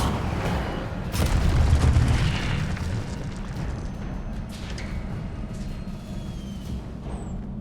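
Incendio fire spell cast in Hogwarts Legacy, a deep whooshing boom that swells early and settles into a low rumbling roar with scattered crackles.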